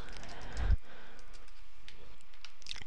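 Keyboard typing, a quick cluster of keystrokes around one moment, then quiet room tone with a faint click near the end.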